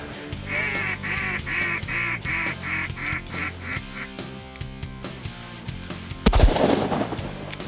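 Shotgun blasts and duck quacking during a duck hunt: a rhythmic series of quacks from a call or birds runs through the first half under background noise, then a loud close shotgun report near the end.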